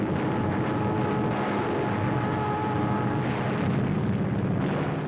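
Wartime navy warplanes take off from a carrier on a battle mission, a dense, steady engine roar that holds loud and even throughout, heard on an old newsreel recording with no talk.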